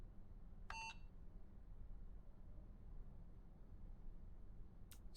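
Phone-number dialing in the Syberia The World Before video game: one short burst of electronic keypad tones, then near silence, then another brief tone at the end, faint over a low hum.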